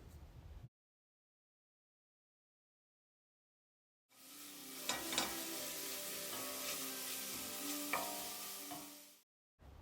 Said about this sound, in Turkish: Rendelediğim havucu da ekliyorum ve yine 3-4 dakika kavuruyorum